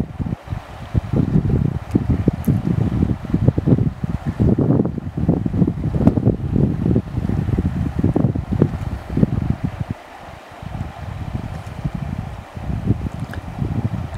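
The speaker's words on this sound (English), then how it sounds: "But just listen for a minute to the sound of the water." Water flows steadily and close by at Big Bend, a continuous rushing, splashing wash with fluttering bursts and no talking.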